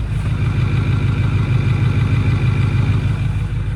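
A diesel truck engine with gelled fuel idles roughly and steadily up close, a low pulsing rumble with an uneven, missing beat and no talking.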